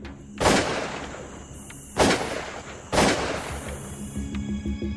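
Three loud, sharp gunshot blasts fired in quick succession as a sound effect in a Korean audiobook drama, each with a hard metallic crack followed by a ringing decay, with no voices over them.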